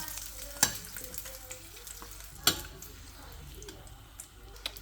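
Eggs fry in a pan with a faint, low sizzle, punctuated by two sharp clicks or clinks and a few soft pops.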